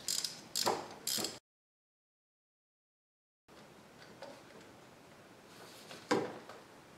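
Ratcheting wrench clicks as a 12 mm bolt on the alternator of a 2009 Honda Pilot is broken loose, a few short close bursts, then a gap of silence and faint mechanical handling noise with a louder click near the end.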